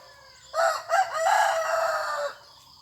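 A single loud rooster crow, close and drawn out for nearly two seconds, against a quiet background.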